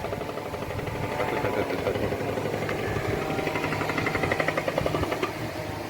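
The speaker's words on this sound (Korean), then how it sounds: "공사하는 소리가 들리시는가 모르겠네요." Construction work on a building site along a path being newly laid, heard as a steady mid-level mechanical engine drone with faint rhythmic clatter, wind blowing across the scene, no talk.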